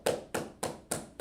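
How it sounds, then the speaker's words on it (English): Five sharp, evenly spaced claps from a classroom audience, close and distinct, with no talking between them. "So clap it up for him."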